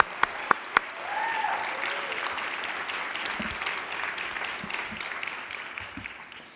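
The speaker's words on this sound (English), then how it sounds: "join me in a round of applause for them and their incredible efforts" Audience applause at the Med Talks 2014 event, opening with a few sharp individual claps and then swelling into steady, sustained clapping from a crowd that gradually fades.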